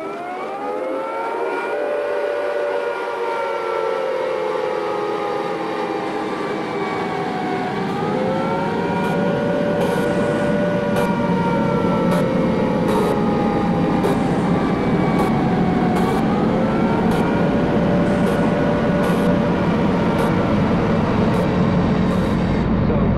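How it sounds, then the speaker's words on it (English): A civil defence attack warning siren wails steadily and loudly, its harmonic-rich tone rising and falling in slow sweeps over a constant rumbling background, with no speech throughout. "If attack is imminent, you will hear the attack sound like this."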